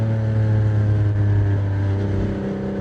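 A Porsche 987 Boxster's engine pulls hard through second gear, a loud, steady low-pitched drone heard from inside the cabin that climbs slightly in pitch and holds full volume throughout.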